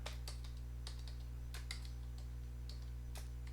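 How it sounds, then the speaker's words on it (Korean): Typing on a computer keyboard while coding HTML: irregular bursts of crisp key clicks, fairly close, over a steady electrical hum, with no talking. "이렇게 타이핑을 해주겠습니다"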